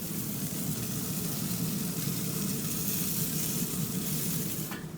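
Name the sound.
burgers sizzling on an outdoor grill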